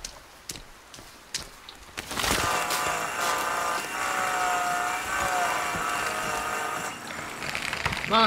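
Chainsaw cutting wood in the survival video game Sons of the Forest. A few knocks come first, then a loud, sustained buzzing whine with a rough wooden grind runs through most of the stretch.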